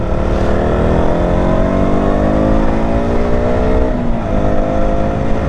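A 2019 KTM Duke 200 motorcycle engine holds a loud, close, sustained rev, its pitch rising and falling slightly as it drones on steadily, with no voices.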